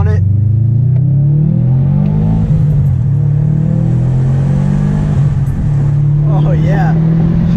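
A 2018 Subaru WRX STI with a newly installed exhaust revs up close and loud, its deep droning note rising and easing in pitch, while voices murmur faintly beside it.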